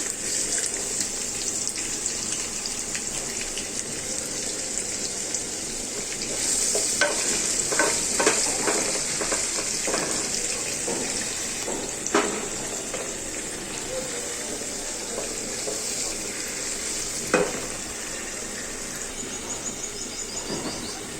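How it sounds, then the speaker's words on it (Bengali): Steady sizzling of chopped onions frying in a pan, with occasional stirring scrapes and clinks, close and continuous throughout. "পেঁয়াজটা ভাজা হয়ে গিয়েছে"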